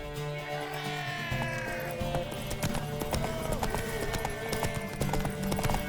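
Horse hooves clip-clop at a fast gallop in The Witcher 3, a steady rhythmic beat close by, with an occasional whinny and game music underneath.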